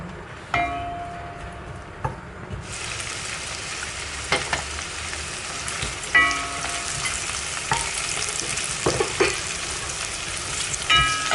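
Asian home-cooked food stir-frying in a pan at home, with a steady sizzle that jumps louder after a couple of seconds, broken by occasional clangs and scrapes of a utensil against the pan.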